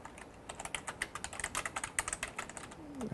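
Rapid, uneven keystrokes on a computer keyboard, quiet and close, with a steady stream of clicks for about three seconds and no voices.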